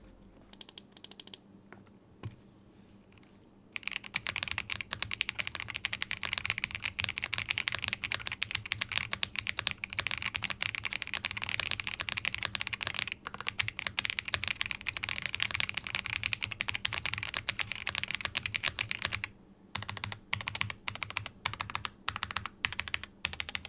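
Fast, continuous typing on a Vortexseries GT65 mechanical keyboard, dense close-up key clacks after a quiet opening, with a brief pause near the end before the keystrokes resume.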